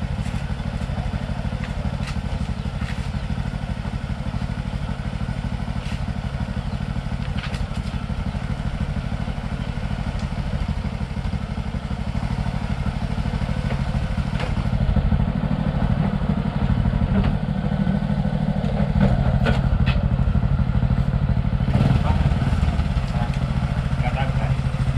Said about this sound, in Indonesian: sekarang saya mau coba dorong motornya sambil saya gas